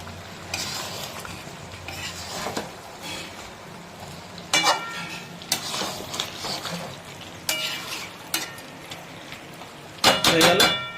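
Mutton curry stirred up from the bottom of a pot with a spoon, scraping and clinking in several bursts over a low simmering sizzle, close and moderately loud.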